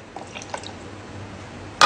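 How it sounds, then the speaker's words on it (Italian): Pasteurized egg white is poured into a Pisco Sour, giving soft faint drips and trickles followed by a short, louder splash near the end, heard close up. "Noi usiamo l'uovo pasteurizzato e andiamo a versare un bel 30"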